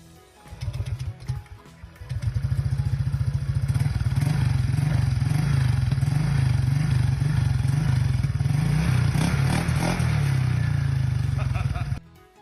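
A stock Honda PCX 2017 scooter engine idles, then revs up and holds a buzzing, rising drone before dropping off, close by; a voice can be heard faintly underneath.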